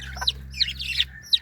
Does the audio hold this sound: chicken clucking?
yes